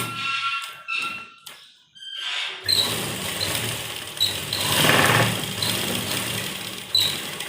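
A sewing machine stitching a blouse seam runs in a steady close whir after a quiet start, with brief squeaky pauses and restarts, and no one speaks.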